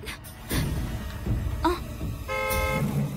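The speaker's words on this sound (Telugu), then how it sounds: "హార్న్ బట్టి చూస్తుంటే బాగా వచ్చినట్టు అనిపిస్తుంది" A car horn gives one short, clear honk near the end, after a few soft knocks and rustles.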